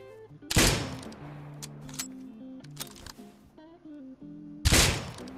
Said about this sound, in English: I just headshot him out of the air.